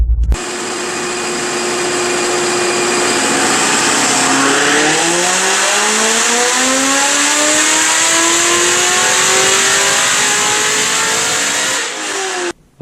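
A 2005 Chevy Corvette engine on a dyno is held in one loud, sustained rev, climbing steadily in pitch through a full pull before cutting off abruptly at the end.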